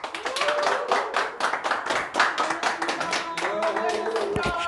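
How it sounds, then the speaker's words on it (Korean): Applause from an audience after a Korean business lecture, many hands clapping briskly and loudly up close, with music tones and some voices running beneath. "다시 한번 큰 박수 부탁드리겠습니다"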